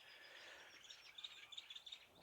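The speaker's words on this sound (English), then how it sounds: "Can you hear the birds? They're in the reeds around me" Birds chirp and tweet from the reeds around the listener, a steady chorus of thin high calls with repeated sharper notes growing more prominent toward the end, moderately distant and without talking.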